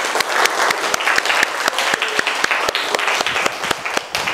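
A class of students in an Islamic teacher-training lesson on funeral rites bursts into applause: lively, close clapping from a group, dense and steady with sharp individual claps.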